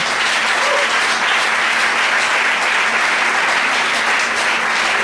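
Church congregation applauding, dense sustained clapping from many hands filling the room at a steady loudness with no pauses.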